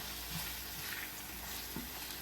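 Steaks frying in a hot pan for homemade steak and gravy, a steady, close hiss and sizzle running throughout with a few faint stirring scrapes and no talking.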